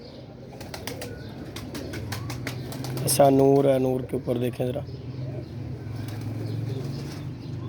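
Pigeons at close range coo in a low, repeated rumble, with a short burst of flapping wings partway through, all under steady talk from a man showing off a pair of golden and kamgar pigeons.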